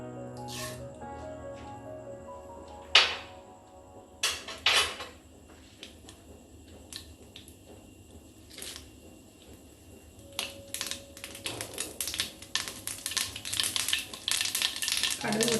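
Mustard seeds splutter in about two tablespoons of hot coconut oil in a pan for a Kerala pumpkin erissery tempering. Scattered sharp pops come first, then they build into dense, rapid crackling near the end.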